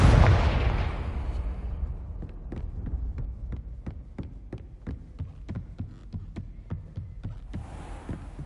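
The blasting spell Confringo cast in the video game Hogwarts Legacy, a loud deep boom fading into a low hum, followed by a long train of evenly spaced thuds pulsing like a heartbeat, with no talk.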